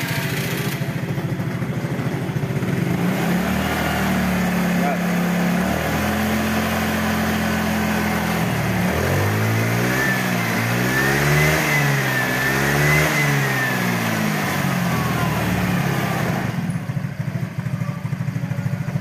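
A Honda Vario carburetor motorcycle engine runs close up, idling steadily and then revving repeatedly in rising and falling bursts before settling back to idle, with no talk over it.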